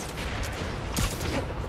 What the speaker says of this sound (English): Follow the gunfire